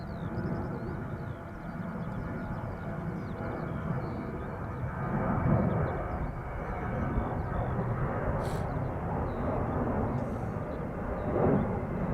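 A Boeing 787 Dreamliner bound for Toronto at Schiphol Airport gives a steady, distant jet rumble that rises slightly now and then, with faint voices in the background.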